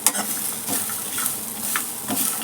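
Grated coconut dry-roasting in a hot pan with no oil, a steady close sizzle broken by scraping stirs of a spatula, with no voices.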